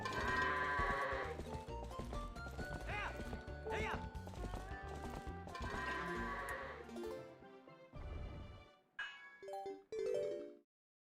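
Goats bleat repeatedly in the Twilight Princess HD video game, layered over game music and hoofbeat-like clip-clops, with a few distinct bleats near the end as the music drops away.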